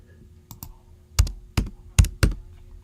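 Keys on a computer keyboard are struck in a short burst, a few light taps followed by four heavier, evenly spaced clacks, close and clear over a quiet room hum.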